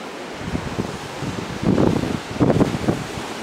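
Sea waves wash in front of a seaside terrace, surging in soft swells amid heavy wind rumble, with no voices.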